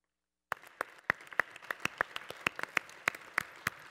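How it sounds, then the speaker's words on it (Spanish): Scattered audience applause for a speaker at a cancer research debate in Mexico: about a dozen separate, sharp claps spread unevenly over three seconds after a brief silence, thin and moderately close, with no voices. "Un aplauso para el doctor Laclet, por favor."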